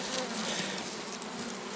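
Dense, steady buzzing of many honey bees at an open hive in a forest apiary, close at hand, a continuous hum with no voices.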